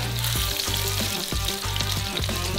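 Seasoned beef searing in a pan with a little rendered lamb fat, giving a loud, continuous, close sizzle with crackling pops and occasional stirring, no voices.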